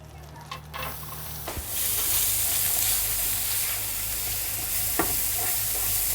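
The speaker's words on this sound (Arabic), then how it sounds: "انزل بقى كده بمعلقه كبيره زبده في نفس الصينيه مطرح طعم وبواقي الفراخ دي كده، وانزل ببصلايه وسط مبشوره ناعم جدا" Grated onion drops into melted butter in a pan still holding chicken drippings, and a bright, even sizzle suddenly swells and holds, with a couple of faint utensil clinks.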